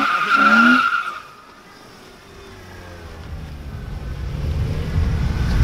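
A BMW E36 drifting: a short high tire squeal fades out, giving way to a rising, droning engine roar with low rumble that grows steadily louder.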